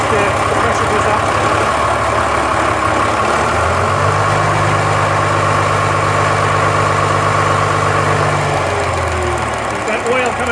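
A revived engine runs steadily at about 600 RPM, a loud, close, continuous low rumble with a rhythmic knocking beat, its tone deepening midway as the speed settles; someone talks over it throughout.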